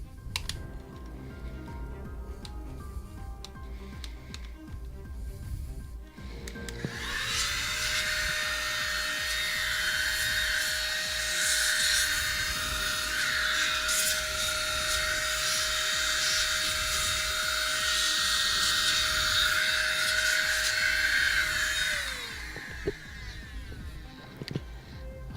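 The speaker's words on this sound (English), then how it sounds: "I might just go inside there with the blower." An air blower cleans dust from inside a Sony Trinitron Multiscan 17sf II CRT monitor during restoration: a steady loud hiss that starts abruptly, holds for about fifteen seconds, then cuts off, with quieter handling noise before and after.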